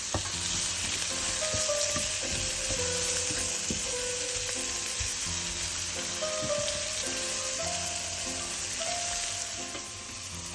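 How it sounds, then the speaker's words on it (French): Pan juices with calvados, left from cooking escalopes, are poured over mushrooms in a hot pan, giving a loud, steady sizzle with scattered stirring clinks throughout. "Je récupère les sucs et le jus qu'il y avait dans la poêle qui a fait cuire les escalopes avec le calvados et je verse sur les champignons"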